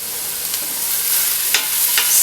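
Chopped leeks and shallots sautéing in a pan, a steady bright sizzle with a few scraping stirs of a utensil breaking through, close and continuous with no voices.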